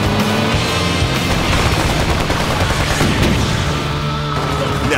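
Heavy gunfire in Renegade Ops, loud dense automatic bursts rattling nonstop alongside explosive booms and a roaring vehicle engine, forming a continuous battle din.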